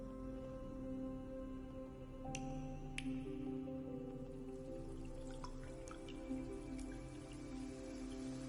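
Soft rainfall in a video game flashback scene, a faint, steady patter with scattered drips, set under sustained tonal game music and occasional sharp chime-like accents.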